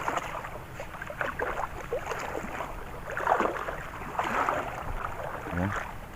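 Rough surf breaks against a high rocky shoreline fishing spot, a steady wash of noise with swells surging at about 3.5 and 4.5 seconds and gusting wind over the microphone.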